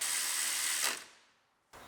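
A short mechanical ratcheting burst as a wiring harness bolt is tightened on an Acura RDX, stopping abruptly, then a brief quieter click afterward.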